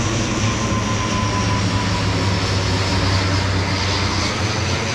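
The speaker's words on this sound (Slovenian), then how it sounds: "Letalo s turisti iz Tahitija." Airplane carrying tourists from Tahiti, a steady engine drone that holds loud and continuous throughout, with no talk.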